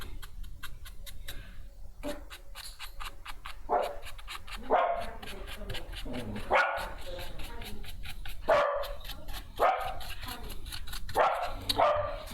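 Five dogs barking in short, repeated bursts through a room, moderately loud and somewhat off to the side, mixed with a steady ticking and a person talking over them.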